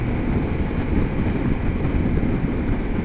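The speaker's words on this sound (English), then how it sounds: "on the motorway, the little 750 GS performs very well" A BMW 750 GS Sport motorcycle cruising on the motorway near the speed limit, giving a steady, continuous engine drone mixed with heavy wind rush at constant loudness, with no talking.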